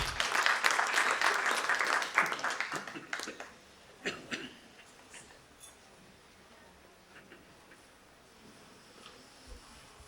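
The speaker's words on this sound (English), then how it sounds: "A big round of applause, please" Audience applause at a summit as a speaker is invited onto the dais, a strong burst of crowd clapping that thins into a few scattered claps and fades to near quiet.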